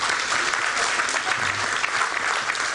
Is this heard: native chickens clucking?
no